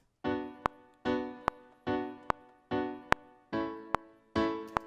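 Six sustained reggae keyboard chords from a stock Logic Pro X instrument ring out one after another at a steady pace, each decaying, with a sharp click landing inside every chord.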